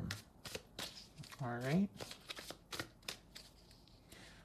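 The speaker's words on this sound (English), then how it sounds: "Let's shuffle more." Tarot cards are shuffled by hand in a run of quick, crisp riffling clicks and soft flicks at close range, while a person speaks briefly over the start.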